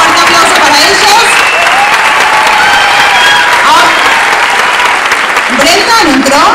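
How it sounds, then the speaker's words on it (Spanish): Loud sustained applause from an audience at a 2015 dance group graduation, many hands clapping densely and evenly throughout, with a few voices and cheers mixed in. "Un fuerte aplauso para ellos."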